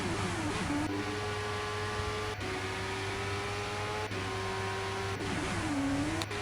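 Race cars on an out lap in the Monoposto racing video game, a steady droning engine whine holding a constant pitch with a few brief shifts, loud and continuous with no talk.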